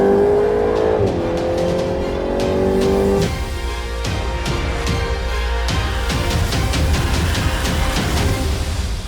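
A Volkswagen Golf GTI Edition 50 is driven hard on a race track, its engine revving high and climbing through the gears, then roaring steadily at close range with no talk.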